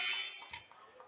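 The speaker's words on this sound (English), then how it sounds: "Rebound to Simmental at the buzzer." A basketball end-of-half buzzer in a college gym, a brief loud electronic blare at the start that fades into faint crowd noise.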